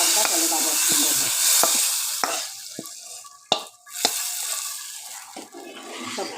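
A tempering of fried onions is poured into dal, giving a strong sizzling hiss that fades away, with stirring clinks and scrapes of a utensil against the pot through it.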